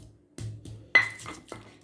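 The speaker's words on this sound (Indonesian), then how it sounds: "Oke, saya ulek dulu ya." A stone mortar and pestle (ulekan) grinding a small batch of spices for beef and potato semur, heard as about four sharp, close knocks and clinks with short pauses between them.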